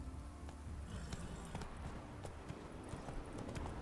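Hooves of Roach, Geralt's horse in The Witcher 3: The Wild Hunt, clip-clopping at a steady running gait, close and continuous over a low game-world ambience, with no voices.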